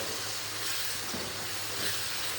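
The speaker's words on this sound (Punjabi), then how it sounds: "ਤੜਕਾ ਆਪਣਾ ਵਧੀਆ ਫਟਾਫਟ ਭੁੱਜ ਰਿਹਾ ਏ" Tadka tempering spices sizzles in a pan, a loud, even, close hiss that stays steady for its brief length, with a low hum underneath.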